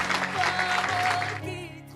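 A church congregation claps in unison during a healing and miracles service, a dense burst of applause that fades out after about a second and a half.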